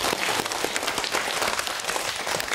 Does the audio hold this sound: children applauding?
yes